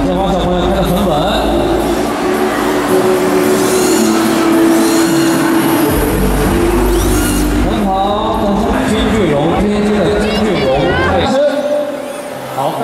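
Radio-controlled drift cars race and accelerate through a corner at a 2019 Qingdao RC drift competition, with a steady buzzing motor whine rising and falling beneath continuous commentary and crowd chatter.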